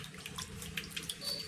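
Tap water runs steadily into a sink while shevla vegetable is washed, with soft splashes and clinks close by and no voices.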